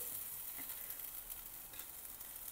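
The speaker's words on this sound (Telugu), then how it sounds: "అల్లం వెల్లుల్లి పేస్ట్ మంచిగా వేగాలి." Ginger garlic paste fries in a pan for a mutton gravy curry, giving a quiet, steady sizzling hiss with faint stirring ticks throughout.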